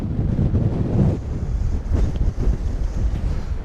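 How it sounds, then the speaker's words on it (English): Strong gale-force wind on a high lookout near Busselton batters the microphone in a loud, continuous low roar with rough surges, and no voices. "Geez, it's windy up here."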